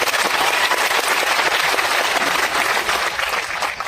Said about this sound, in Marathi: आणि शेवटचे मोठी टाळी मोदीजींच्यासाठी वाजवा.